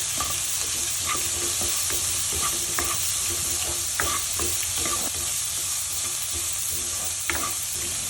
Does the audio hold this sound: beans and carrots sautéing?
yes